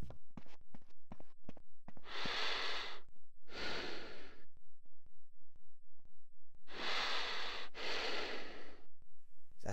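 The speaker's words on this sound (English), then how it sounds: "CJ breathing?" Heavy in-game breathing from the character CJ in GTA San Andreas, two pairs of long, loud, close inhale-exhale sighs separated by quieter stretches of soft, rapid tapping footsteps.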